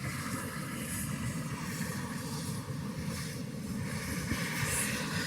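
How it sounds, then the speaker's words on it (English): A medical transport helicopter spools its engine back up at a park landing zone, a steady, loud broadband roar and rotor rumble that stays constant and close throughout with no talk. "As that helicopter starts winding itself back up."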